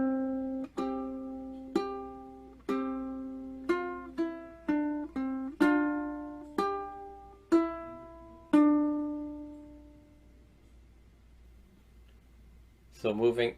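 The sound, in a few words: ukulele fingerstyle, bar 2 of Lavender's Blue played faster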